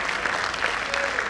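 An audience claps together in a steady burst of applause, dense and sustained for the whole moment, with no voices on top.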